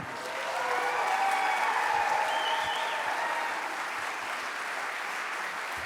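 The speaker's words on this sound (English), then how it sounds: "Can you clap louder, please?" An audience at the Hudson High School Winter Pops Concert claps, a broad wash of applause that swells and then holds steady, heard alone from within the hall.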